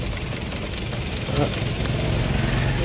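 Toyota Etios petrol engine running with a steady, loud idle drone after a cylinder misfire was fixed, continuous throughout with slight unevenness.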